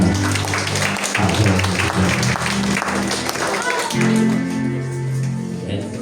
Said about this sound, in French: On va applaudir le Seigneur.